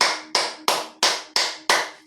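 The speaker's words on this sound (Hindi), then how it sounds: "उंगली खोल के ताली बजाएंगे" Six sharp hand claps with fingers spread, evenly spaced about a third of a second apart, close and crisp with short decays, performed alone during a guided yoga exercise.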